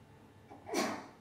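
A single sneeze with a short inhaled build-up, then a sharp burst, close by and fairly clear against a quiet room.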